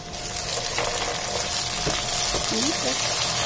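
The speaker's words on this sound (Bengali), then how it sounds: "আমার পেঁয়াজ একটু হালকা ব্রাউন হয়ে আসছে" Onions with ginger frying in a pan give a steady, close hiss and sizzle with occasional stirring scrapes, while a voice speaks faintly over it.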